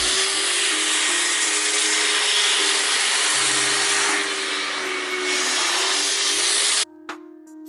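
A Hyla vacuum cleaner runs for dry cleaning with a loud, steady rushing roar close by, then shuts off abruptly near the end, leaving only a few faint clicks.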